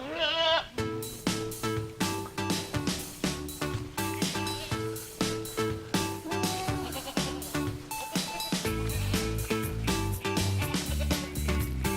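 Kiko goats bleat repeatedly and loudly up close, their calls overlapping in a nearly continuous stream of braying cries.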